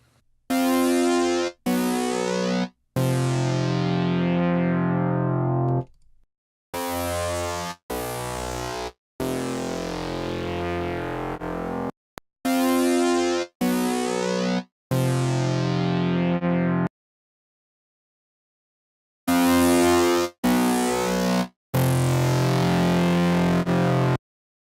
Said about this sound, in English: let's take a listen as I click through the various saturation types